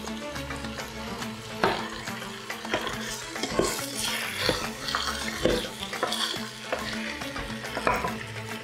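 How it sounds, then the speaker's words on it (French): Chickpeas tipped into a sizzling pot of Tunisian lamb couscous and stirred, with repeated close clanks and scrapes of the spoon against the pot over a steady frying crackle, no talking. "Là, je rajoute les pois chiches."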